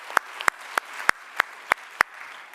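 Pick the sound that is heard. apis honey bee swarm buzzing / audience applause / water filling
audience applause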